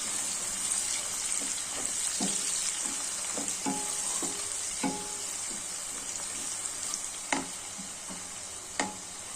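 Sliced green chillies fry in a pan with a steady, close sizzle, broken by occasional sharp clinks and scrapes of stirring.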